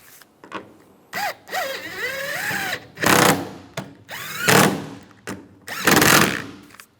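Bolts being tightened with a power tool on a Chevrolet Silverado tailgate while fitting a latch rod, heard as several loud, close bursts of drilling whir, separated by short pauses.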